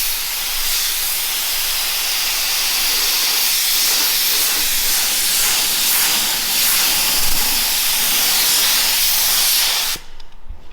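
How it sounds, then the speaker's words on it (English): A spray gun lays primer on a 2022 GMC Yukon Denali, producing a loud, continuous close-up hiss that holds steady for about ten seconds before cutting off abruptly. "We're gonna hurry and mix up like 2 ounces and get this thing sprayed."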